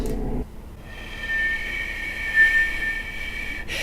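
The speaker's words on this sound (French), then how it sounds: "Ça, c'est le bruit de la bouilloire." A kettle's steady, high-pitched whistle sounds for about three seconds over a low background rumble, then stops.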